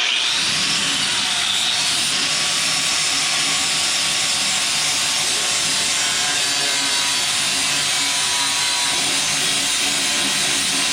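A Chevy LUV truck frame being cleaned with a power tool before tack welding, a loud continuous abrasive hiss and grind held without pause throughout.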